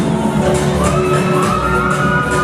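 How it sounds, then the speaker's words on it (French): Audience at the Miss Afrique 2016 pageant applauding and cheering for a runner-up, with loud, sustained crowd noise, shouts and whoops blending together. "On applaudit."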